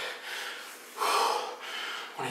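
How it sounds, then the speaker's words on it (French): Heavy panting follows a set of burpees: several loud, rough breaths in and out, one stronger gasp in the middle, close to the microphone with no speech. "On est essoufflé."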